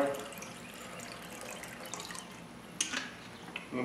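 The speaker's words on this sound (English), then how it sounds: "Pour a little water in there. In the Smokenator water pan." Water is poured into the Smokenator water pan of a grill as a soft, continuous splashing trickle with one brief sharper splash near the end, and no voices.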